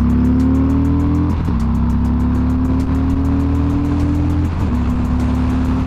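A Harley-Davidson Fat Bob motorcycle accelerates hard on an open road, its loud engine note climbing steadily with two brief dips at gear shifts, then pulling up again, close and continuous.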